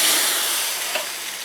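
Beer and boiling water poured into a large iron wok of sizzling soybean paste and chili paste, giving a loud, steady hiss of steam and bubbling that fades slightly.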